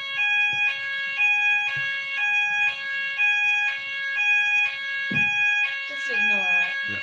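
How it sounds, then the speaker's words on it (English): A fire alarm sounds continuously as a loud, steady electronic tone that pulses in a regular on-off rhythm. Brief speech and a few bumps break in near the end. "Fire alarms."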